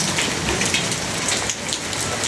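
Steady rain pours down, a dense continuous hiss of drops striking surfaces close by, with no voices.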